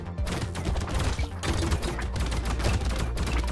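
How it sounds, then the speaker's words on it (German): Rapid bursts of gunfire in the video game Brotato crackle continuously over a dense, rumbling game soundscape, loud and busy throughout. "die Schüsse, die ballern schon rein"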